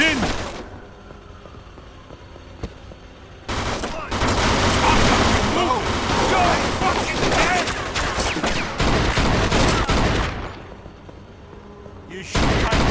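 Gunfire in the video game Mafia 2 breaks out as a long, dense barrage of rapid, loud shots after a quieter opening, then stops abruptly near the end.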